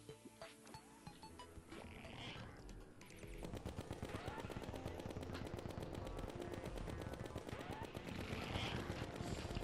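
Rapid gunfire from chlorophyte bullets in Terraria during a Duke Fishron boss fight, a dense continuous rattle of shots over game music and effects, growing louder and busier partway through.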